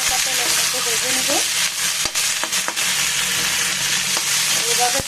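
Pieces of chicken frying in a little oil for Bangladeshi chicken bharta, with a dense, steady sizzle, close and loud, broken by a few sharp crackles and faint utensil taps.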